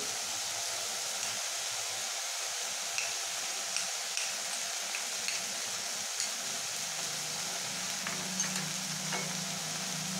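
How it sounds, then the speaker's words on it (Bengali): A paste of ginger, garlic, green chili and onion with turmeric fries in a pan, hissing in a constant sizzle punctuated by light scrapes and clicks of stirring. "আদা রসুন কাঁচা লঙ্কা আর পেঁয়াজ বাটা ভালো করে মা ভেজে নিয়েছে।"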